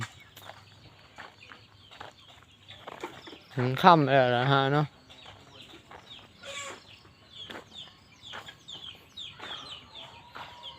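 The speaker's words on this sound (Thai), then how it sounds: "ไก่เยอะมากนะครับ" Numerous chickens cluck at low level through a poultry house in a rural Thai village at evening, a steady faint background of scattered calls beneath someone talking, with one louder, sustained burst of squawking midway.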